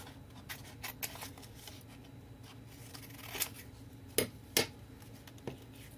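Scissors cutting paper for a handmade toilet-paper-roll journal tag: a few crisp snips and a couple of sharper cuts near the end, faint and close in a quiet room, with no talking.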